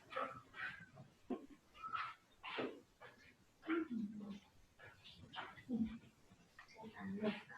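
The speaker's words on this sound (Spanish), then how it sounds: "Déjenme sacar a mi perrito que está haciendo bulla." A small dog barks and whimpers in short yips scattered across the clip, mixed in with nearby talking at a moderate level.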